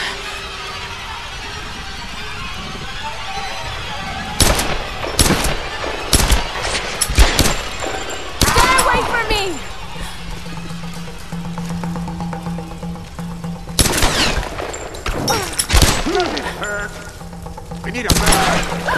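Gunfire in Tomb Raider: a quiet stretch, then sharp bursts of nearby shots in quick clusters, with a pause before another volley; voices talk between the shots.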